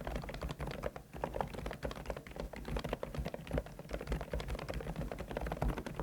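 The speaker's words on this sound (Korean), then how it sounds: "108키 풀배열이고 키압은 35g, 축은 서걱서걱하고 걸림이 있는 저소음 눈송이 축입니다." Typing on a 108-key full-size low-noise keyboard with snowflake switches and 35 g actuation, a dense, quick, muted patter of soft keystrokes, continuous and close.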